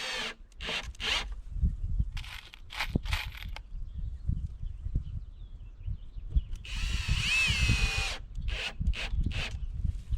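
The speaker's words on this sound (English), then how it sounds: "Just put a couple more screws in here to firm this up" Power drill driving screws into a cedar raised bed frame, several short whirring bursts near the start and a longer sustained whine later, close and fairly loud with woody rubbing between bursts.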